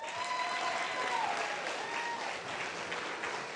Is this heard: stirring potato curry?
no